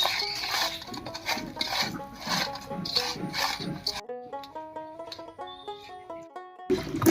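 Prawns and pointed gourd are mixed by hand with turmeric and salt, making soft, close, wet patting and squishing for about four seconds before music takes over on its own.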